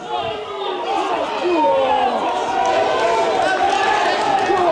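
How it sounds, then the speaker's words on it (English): Rugby match crowd at Prescott v Barrow, a steady wash of chatter and rising murmur from many spectators, moderately loud and continuous, with a commentator's voice running over it. "Crowd getting warmed up now."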